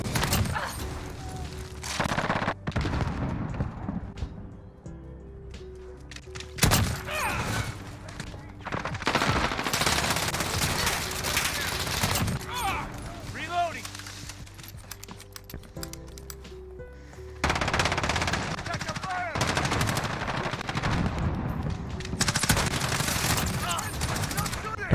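Gunfire from the MK2 Saguaro rifle in Modern Warfare: repeated loud bursts of rapid shots separated by short pauses, some bursts long and sustained, loud and close.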